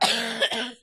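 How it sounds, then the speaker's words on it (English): A person coughs twice in quick succession, close and sharp, then falls silent. "Excuse my coughing."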